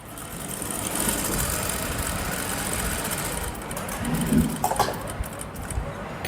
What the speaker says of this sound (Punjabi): ਇੱਥੋਂ ਸਲਾਈ ਸਟਾਰਟ ਕਰਨੀ ਹੈ ਤੁਸੀਂ